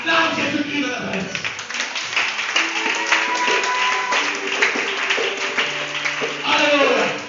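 A church congregation claps and cheers in acclamation of Jesus Christ, a dense, lively burst of applause with voices calling out over it, continuing throughout.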